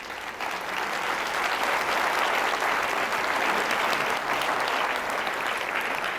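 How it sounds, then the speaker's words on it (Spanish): A church congregation applauds the Lord in a loud, dense wash of clapping that fills the room and holds steady for several seconds. "dale un aplauso al Señor."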